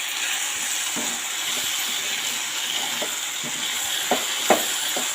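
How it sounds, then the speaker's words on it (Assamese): Mustard greens being stirred in a hot pan, with a steady frying hiss and several light, spaced scraping clicks from the spatula, close up and without speech. "সৰিয়হখিনি দি মই লাৰি দিম। ধুনীয়াকৈ লাৰি দিছোঁ।"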